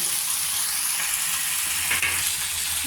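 Chicken pieces sizzle steadily in hot oil in a pan, a loud, continuous frying hiss with faint scraping from stirring partway through.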